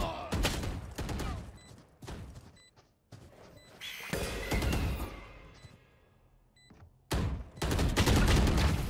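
Bursts of rapid automatic gunfire and single shots ring out in a Valorant match, loud and close, in clusters separated by brief quieter gaps with faint mechanical clicks.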